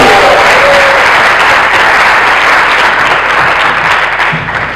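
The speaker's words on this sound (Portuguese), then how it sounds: "Uma salva de palmas para a Joana!" Sustained audience applause at an entrepreneurship conference in Lisbon fills the room loudly and evenly, a dense wash of clapping from a large crowd with no talk over it.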